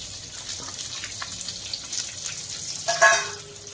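Onion and chilli dropped into hot oil already used for frying a hotel-style soya chilli, giving a steady, moderate sizzle with a sharper burst of crackling near the end.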